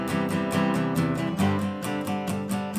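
Steady acoustic guitar chords played with all long down strums in an even, driving rhythm, close and fairly loud with no talking.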